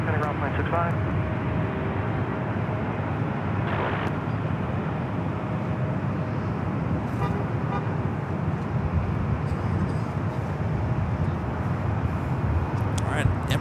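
A nine-year-old Emirates A380 jet at Los Angeles International Airport gives off a broad, steady roar across the whole stretch, with distant traffic noise and brief horn-like toots mixed in, while a person talks over it.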